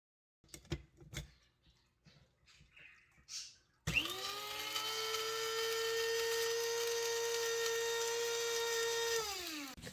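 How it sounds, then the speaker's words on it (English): An electric coffee grinder grinding dried tomato skins starts after a few soft handling knocks, then whirs steadily and loudly for several seconds before winding down. "to grind the tomato skins, I'm using a coffee grinder"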